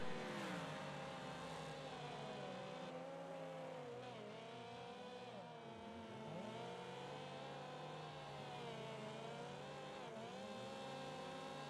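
Race cars on a Wreckfest Trans-Am Series track roar continuously, several engines revving and shifting pitch as cars pass close by, loud and unbroken with no talk over them.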